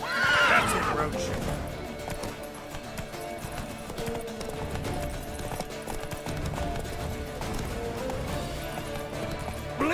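Roach the horse in The Witcher 3 whinnies loudly at the start, then hooves clip-clop steadily at a gallop under combat noise and spoken voices throughout.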